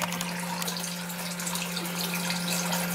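Water runs steadily from a shower in a small off-grid tiny house, a continuous close hiss with a low electrical hum beneath it.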